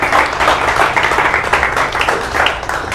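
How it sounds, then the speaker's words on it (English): A tech meetup audience at a Las Vegas demo night claps for Ben, a loud, dense burst of applause sustained throughout, with faint crowd murmur mixed underneath. "big round of applause for Ben"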